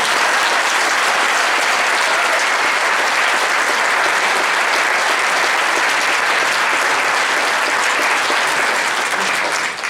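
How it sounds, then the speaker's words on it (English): A large audience claps in a loud, dense round of applause at a summer band camp, sustained evenly for about ten seconds before easing slightly at the end. "So I'd like you to just give everybody a round of applause."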